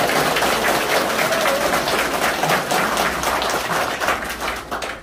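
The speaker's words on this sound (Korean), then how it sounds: "박수 한번 보내겠습니다" A room of supporters at a campaign office opening claps together, dense and lively, the applause holding steady and thinning slightly near the close.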